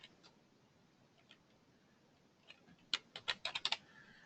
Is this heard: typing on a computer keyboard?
yes